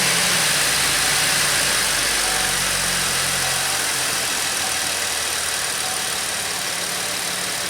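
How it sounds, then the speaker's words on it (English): Chevy Impala engine idling steadily up close, a loud, even broadband rumble with a low tone that eases slightly after a few seconds, no speech. "Now we're gonna start the car again,"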